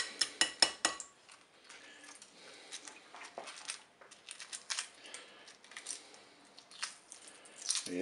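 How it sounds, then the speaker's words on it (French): Hard-boiled eggs being peeled by hand in a kitchen, with crisp shell cracks and taps at the start, then soft crackling, small clicks and scraping as the shell comes away, close and fairly quiet, no talking. "Maintenant, je vais écaler mes œufs."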